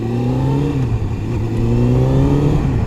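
A close motorcycle engine revs steadily, its pitch dipping and climbing again in a continuous droning growl.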